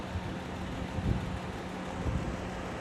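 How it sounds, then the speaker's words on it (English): A car engine idles about five to seven feet away, a faint, steady low rumble with light wind noise and no talking. "my car is right here running, right next to me, about 5 feet away, maybe 7 feet"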